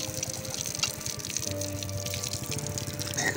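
Flood water being poured and collected into a bottle during flood relief work, a steady loud gushing, bubbling stream of water close by, with no one speaking.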